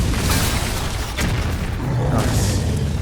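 Bombs exploding in the Hearthstone card game during a Mech Hunter match: dense, booming bursts fill the background continuously while someone talks over them.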